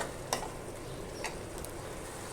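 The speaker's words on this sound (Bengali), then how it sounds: "এবার আদা, রসুন, কাঁচা লঙ্কার সাথে আমি টমেটোটাকেও ভালো করে আরেকবার কষিয়ে নেব।" Tomato frying with ginger, garlic and green chili in a pan for a Bengali fish-head and taro dish gives a steady close sizzle, with a couple of brief stirring scrapes.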